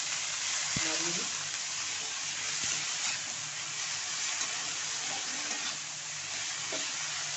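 Leafy greens with turmeric and spices sizzling steadily in a pan, a constant close frying hiss with occasional clinks and scrapes of stirring.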